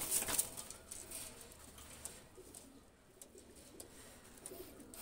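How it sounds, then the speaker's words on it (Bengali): Pakistani high-flyer pigeons, a red-necked pair, released outdoors, with soft faint cooing and light fluttering over quiet background hiss. "দুইটা কবুতর আমি ছেড়ে দেখাচ্ছি"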